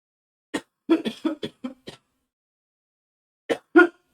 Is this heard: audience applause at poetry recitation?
no